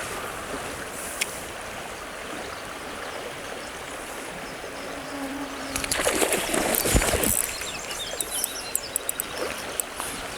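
A pretty river streams steadily nearby during fishing for chub, a soft continuous wash of water with a brief louder splashing burst midway.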